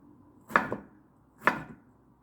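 Knife chopping vegetables (zucchini or eggplant) into medium-sized pieces on a cutting board: two distinct close chops about a second apart, each a sharp thud with a brief follow-on tap, in quiet surroundings.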